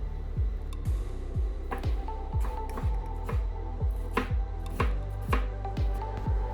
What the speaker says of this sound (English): Piling all the leaves of basil and then rolled it and sliced.